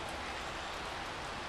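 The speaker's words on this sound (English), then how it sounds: "Let's hope this rain gives up a bit." Rain falls as a steady, even hiss through a wet outdoor setting at a fishing lake, faint and continuous with no voices.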